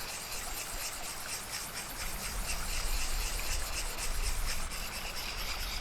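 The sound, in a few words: knife being sharpened on a sharpening stone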